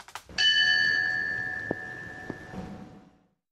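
A single memorial bell struck once during a ceremony reading victims' names, ringing with clear sustained tones that slowly decay, with a couple of faint knocks in the background.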